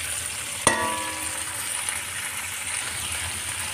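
Garlic shrimp frying in a pan, giving a steady soft sizzle throughout, with one sharp clink of a utensil near the start and no talking.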